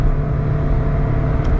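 A supercharged Subaru Vivio RX-R kei car pulls hard under full throttle, its engine note a steady, loud drone heard from inside the cabin with a dense low rumble throughout.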